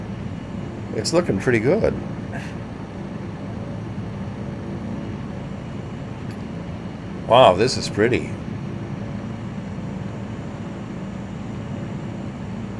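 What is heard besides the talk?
airplane engine in a VR flight simulator video game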